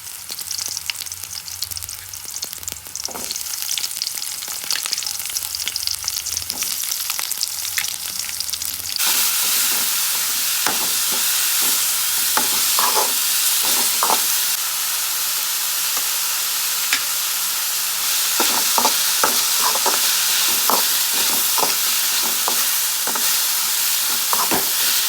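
Onion, carrot and tomato frying in a pan for village-style pasta give a loud, steady sizzle broken by clicking stirs, with no voices.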